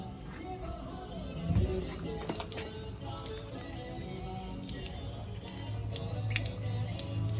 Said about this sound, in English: Open the drain at the bottom of the radiator and let everything flow out.